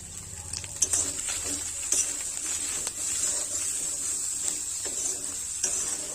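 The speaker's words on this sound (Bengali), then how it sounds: "মশলার সাথে মাছের মাথা কিন্তু খুব ভালোভাবে ভেজে নিয়েছি" Fish heads fry steadily in a small amount of oil with turmeric, salt and spices, a constant close sizzle broken by occasional scraping stirs of a spatula against the pan.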